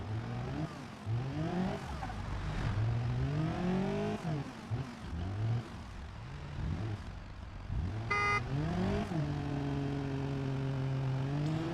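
Engine of a K-truck kei truck in BeamNG.Drive, revving up and down through repeated rising and falling sweeps, loud and close, with a short chime-like beep partway through and a steady idle drone at the end.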